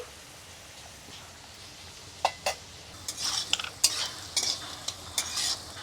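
Bottle gourd peel frying in a pan with turmeric and salt added: a faint steady sizzle, then scraping spatula strokes that grow busier and louder over the last few seconds.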